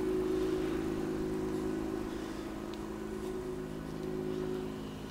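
A supercar's engine running in a steady, loud drone with a low rumble and slight rise and fall as it pulls away, continuous and close with no voices.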